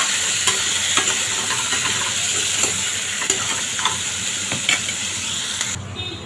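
Crabs and crab claws sautéing in a pan for a Malvani crab curry, a loud, dense sizzle with frequent scraping stirs and clatter throughout, close up and without talk.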